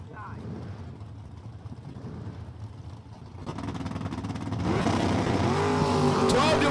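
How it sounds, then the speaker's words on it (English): A 1990 Fox Body Mustang at a drag strip, engine roaring louder and building from about the midpoint as it launches and pulls away, with a race announcer talking over a steady crowd-and-engine din. "Jack Vault, North Syracuse's very own, driving the 90 Fox Body Mustang"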